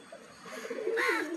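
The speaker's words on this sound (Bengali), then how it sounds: "আজকে পায়রাগুলোকে ছাড়তে এসেছি" Pigeons about to be let out call with low, rolling coos up close outdoors, growing louder toward the end.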